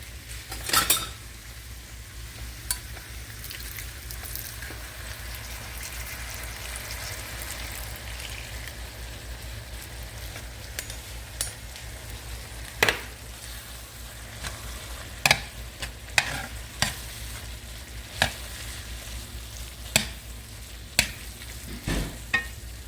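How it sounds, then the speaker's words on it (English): Beef and vegetable gravy mixture for shepherd's pie is stirred in a pan, a soft steady sizzle underneath with repeated spoon scrapes and clinks against the pan at irregular intervals throughout, close by with no talking. "And you're just going to mix this up good"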